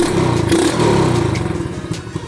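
A pocket rocket minibike's small engine running on a test after a carburetor upgrade, a loud close buzzing drone with slight rev changes and rattly clatter throughout, no talking.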